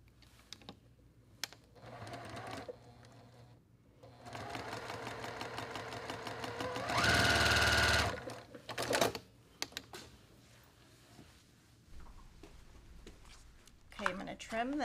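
A sewing machine stitches a quilt block in a quilting tutorial, its rapid mechanical whir running steadily for a second or so amid quieter handling noises, with someone talking before and after.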